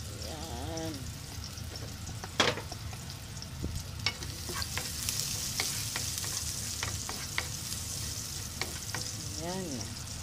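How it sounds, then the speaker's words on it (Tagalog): Garlic frying in a hot pan, a steady close sizzle with scattered crackles and a few scraping stirs of the utensil against the pan. "Ayan, mainit ng ating kawali. Lagay na natin ang ating garlic."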